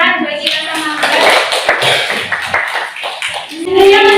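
Applause in a classroom during a probability lesson: a burst of many hands clapping, dense and fairly loud, with voices speaking over it at the start and end.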